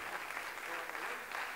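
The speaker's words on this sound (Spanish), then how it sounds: "Muchísimas gracias por esos cariñosos aplausos" Audience at a 2016 Bucio concert for Fundación Tamaimos applauding, a dense steady wash of many hands clapping throughout, fairly loud and continuous with no voices standing out.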